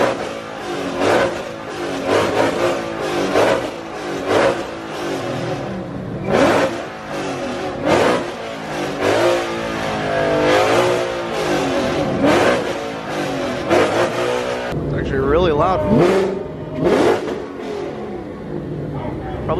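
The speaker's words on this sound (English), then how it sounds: "Probably the loudest GT500 I've ever heard." A loud Ford Mustang GT500 engine revs hard over and over at a car meet, roaring and dropping in bursts, with people talking and cheering in the background.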